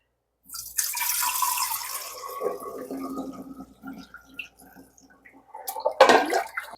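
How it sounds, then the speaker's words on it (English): Homemade beef bone broth poured from a four-cup measure through a jar funnel and fine sieve into a glass jar, a close, trickling liquid stream with a louder splash near the end. "I use a 4-cup measure, and I use that to pour into this to strain it."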